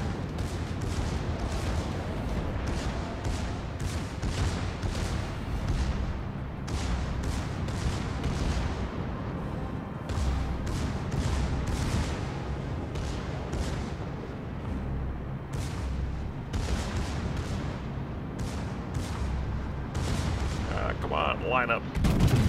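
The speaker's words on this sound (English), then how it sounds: "That looks like a good salvo." Warship guns firing salvos during a naval video game battle in a thunderstorm, repeated heavy booming blasts with rumbling low-end echoes in rapid succession, loud and close throughout.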